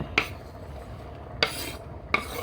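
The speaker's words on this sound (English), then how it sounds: "I'm going to scrape the onions on in here." Three sharp metal scrapes of a utensil pushing onions into a pan of cooking beef, spaced irregularly over a low background hiss with no talking.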